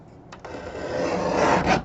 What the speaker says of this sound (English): Using the trimmer, I'm lining up the words with my finger guard.